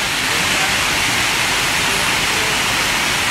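Heavy rain pours down steadily in a dense, loud, even roar with no break.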